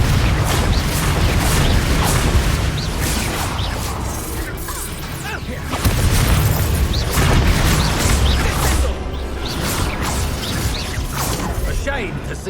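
Blasting Confringo spells in Hogwarts Legacy burst with heavy crashing booms and impacts, several loud hits landing in quick succession over rumbling combat sound, with voices talking in between.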